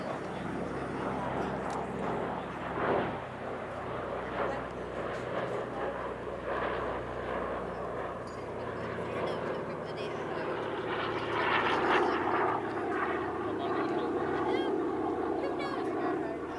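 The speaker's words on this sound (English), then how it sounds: "a relatively rare airshow appearance by C-47 Dragamute, owned by Warbird experience flight company Aero Legends" A C-47 Dakota, the Aero Legends-owned 'Drag-em-oot', a piston warbird flying at the Midlands Air Festival airshow, gives a steady droning engine rumble that swells slightly toward the end, while a voice talks over it throughout.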